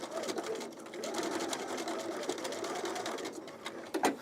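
A sewing machine runs continuously, stitching from the middle of a seam on a songbird top, its rapid needle chatter steady and close, slowing briefly at the end.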